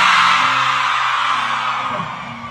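Crowd at a sertanejo concert in Jaciara letting out one loud, sustained shout on request, a dense roar of many voices that fades slowly over a couple of seconds, with no other talk.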